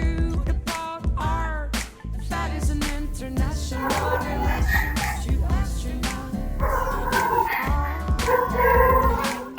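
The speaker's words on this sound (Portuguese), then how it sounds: "Cachorro do vizinho lá." A neighbour's dog barks and yips repeatedly, loud and fairly close, mixed over steady background music with no talking.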